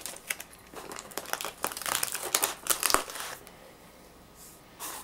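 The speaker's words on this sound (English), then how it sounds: "using packing tape, I just attach the hand at the base to the plate, just by wrapping tape around the bottom." Packing tape being pulled and wrapped around the base of a hand sculpture, fixing it to a plate: a run of close, crackly crinkling and tearing bursts, busiest in the middle, then trailing off into quieter rustles.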